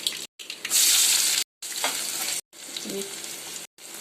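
Cumin seeds frying and sizzling in hot oil in a pan as a vegetable dish is started, a steady crackling hiss broken by short pauses, close and fairly loud.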